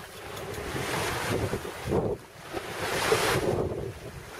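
Wind and waves rush past a sailboat under a Yankee headsail and full mainsail at sea off the Philippines, a steady, fairly soft roar of breeze and surf that swells and dips briefly midway.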